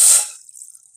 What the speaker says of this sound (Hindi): सबसे पहले हम पानी ऐड करेंगे